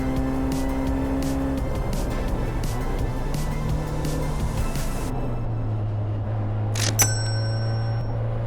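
A 40-year-old Toyota endurance race car on track, its engine droning loud and steady from inside the car with changing pitch, a brief sharp click late on.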